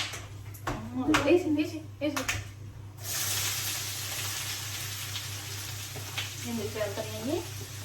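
Chopped onions hitting hot oil in a pan, with a sudden burst of sizzling that settles into a steady hiss, and people talking before and over it.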